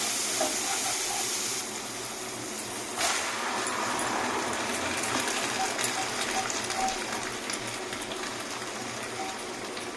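Chickpeas and potatoes fry in hot oil spiced with fennel and cumin, a steady close sizzling hiss that carries on without pause.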